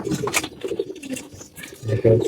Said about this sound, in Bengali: আমার কবুতর গুলা এখন খাবার দিয়ে দিছি খাবার খাইতে আছে